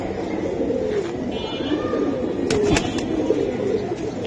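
Silver Giribaz pigeons cooing softly in a loft, low murmuring coos running steadily throughout with a brief faint flutter partway through, no talk.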